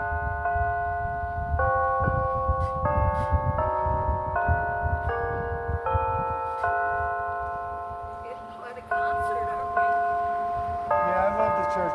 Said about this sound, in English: These are like 4th of July church bells.